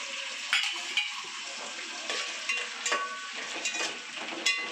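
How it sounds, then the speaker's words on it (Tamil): Water mixed with lemon is poured into a hot pan while cooking lemon rice, giving a steady, soft sizzle with scattered metallic clinks of a utensil against the pan. "இதில் லைட்டாக நம்ம வந்து தண்ணி கலக்கி ஊற்றலாம்."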